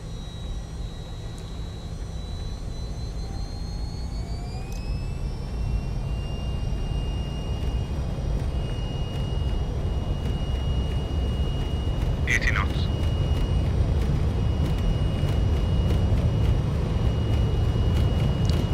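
Airliner in Microsoft Flight Simulator 2024 rolling down the runway at Telluride for takeoff: a steady, loud engine roar and rumble that holds throughout, with rising whine tones and a brief chime partway.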